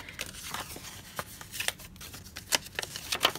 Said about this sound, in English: It's easier to go ahead and fold on these score lines now before we attach the 2 pieces together.